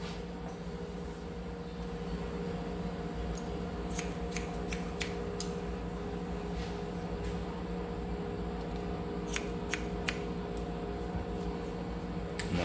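Freshly sharpened hairdressing scissors snip through straight hair in vertical sections, producing crisp, sharp clicks in short bursts, some in quick pairs and triplets, over a steady low background hum.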